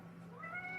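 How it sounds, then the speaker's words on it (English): A cat meows indoors, a close rising meow drawn out over most of a second against a low steady room hum, with no talking. "If you guys hear meowing"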